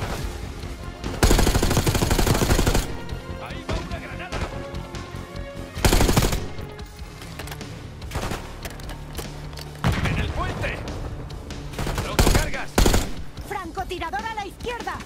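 Rapid automatic gunfire rattles in bursts through a Call of Duty Black Ops 6 campaign battle, laying down covering fire, with louder booming shots and mechanical clatter punctuating the sustained firing.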